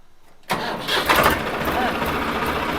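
A heavy tractor diesel engine cranks and catches after a brief pause, then settles into a loud, steady rumble close by, at a village tractor fair.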